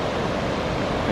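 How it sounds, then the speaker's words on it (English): A river running through a forest in Sequoia National Park, heard as a steady, dense rushing of water with no breaks or voices. "we got some kind of like a river running through here"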